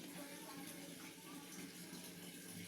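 Water runs steadily from a tap as a container fills in a home kitchen, a continuous close splashing hiss that holds unbroken for the whole stretch with no voices over it.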